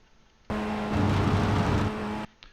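A Ray FF1600 race car engine held at full throttle in iRacing, a loud, steady, high-revving buzz starting abruptly and cutting off after under two seconds, with no talking.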